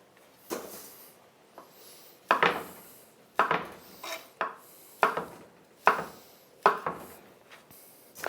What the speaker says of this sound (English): I'm going to cut the broccoli a little bit smaller than I am the rest of the ingredients